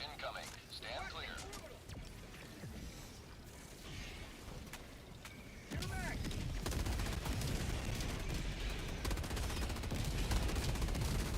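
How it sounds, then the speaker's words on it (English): An orbital barrage strike in Dragon Age: The Veilguard: steady rumbling blasts and rattling fire that suddenly grow much louder and denser halfway through, then keep pounding heavily. "Orbital barrage incoming. Stand clear."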